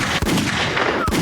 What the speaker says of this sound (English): That's one gunshot for him.